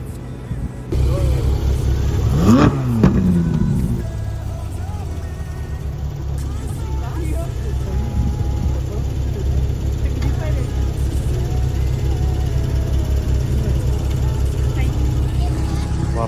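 A Porsche engine starts and rises in a brief rev, then settles into a steady low running drone heard from inside, with a voice speaking over it.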